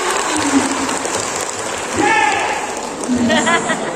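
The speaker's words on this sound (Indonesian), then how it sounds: "Tepuk tangan." Applause from a seated audience at an Indonesian vocational-school (SMK) teaching-factory forum, a steady wash of clapping with a voice speaking over parts of it.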